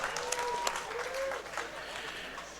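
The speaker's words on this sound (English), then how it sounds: "How about a round of applause for our ring card girl, Sam?" Crowd applause at the Colosseum Combat 46 fight event fills the arena, a steady wash of clapping and cheering with a whistle-like tone riding over it, with a voice present.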